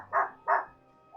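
A dog in the video game Final Fantasy XVI barks twice in quick succession, sharp and fairly close, with the start of a third bark cut off at the end.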